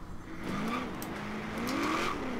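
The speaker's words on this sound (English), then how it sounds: "The sound of this car." Nissan 240SX Rocket Bunny drift build revving in Forza Horizon 3, a sustained rising and falling engine whine that climbs twice in pitch, steady and loud throughout.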